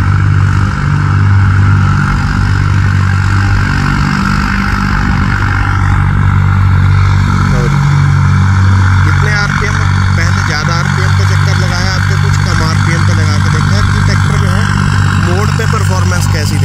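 A modified tractor engine runs steadily in a dry, sandy, unsown field, a loud continuous low throb throughout, with someone talking over it.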